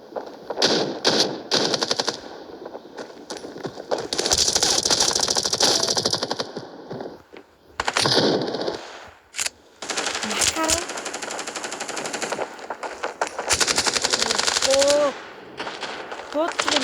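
Rapid machine-gun bursts and gunshots ring out in the mobile shooter Standoff, loud and close, in repeated volleys separated by short pauses, with a voice occasionally speaking.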